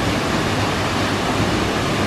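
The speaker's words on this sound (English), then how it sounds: "A lot of force in that waterfall." Tululusia Waterfall in Arusha National Park, Tanzania, roars as a steady, dense, forceful rush of falling water, loud and close with no pauses.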